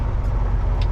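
A truck pulling a spread-axle dry van trailer rumbles steadily as it is parked, a loud, close, low engine drone for a brief moment with no talking.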